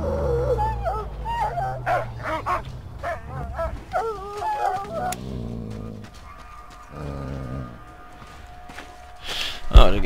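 A dog in the Mad Max video game barks, yips and whimpers in a series of short, pitched cries, fairly close and prominent, with someone talking in between and a sharp thump near the end.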